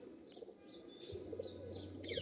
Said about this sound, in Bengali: এই কবুতরগুলো অনেক ছটফটে কবুতর, থাকতে চায় না হাতে।